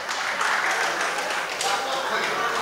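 A crowd at a memorial wake for a union leader claps steadily for the backup singer, the applause blending into a busy, noisy room.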